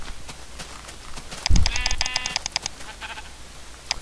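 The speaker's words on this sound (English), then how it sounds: "Just need to kill one more sheep." Sheep in the Minecraft video game giving a single loud, close, wavering bleat midway, over faint clicking and background noise.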